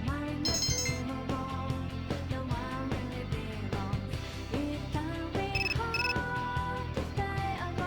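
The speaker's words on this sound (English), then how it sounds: "You received a text message." A short electronic text message notification chime plays over ongoing background music in the Persona 3 video game, with bright beeping tones near the start and again around the middle.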